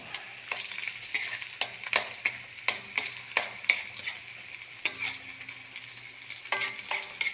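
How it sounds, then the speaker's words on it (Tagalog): Onion and garlic are sautéed for pancit bihon, a close sizzle punctuated by frequent sharp scrapes and taps of a spatula stirring in the pan. "magigisa muna tayo sibuyas, bawang"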